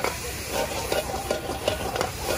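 Shredded pork stir-fries in a hot pan at a Shandong market food stall, hissing and sizzling steadily while a spatula scrapes and tosses in a quick repeating rhythm, close and unbroken by talk.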